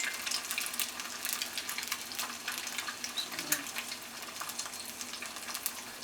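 Quail eggs frying in a pan: a steady bright sizzle with crackling spits and pops, close and continuous, with no talking.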